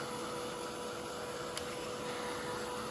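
Steady, even whoosh of a heat tool blowing hot air to dry a wet craft project, a constant close hiss with no talk.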